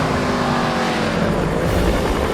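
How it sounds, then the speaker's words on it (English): A Mercedes-Benz racing car with a 3-litre straight-8 engine roars continuously and loudly, its dense mechanical snarl holding steady at close range as it drives. "Somewhere that's never echoed to the sound of its thunderous 3-litre straight-8 engine"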